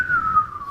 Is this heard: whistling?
yes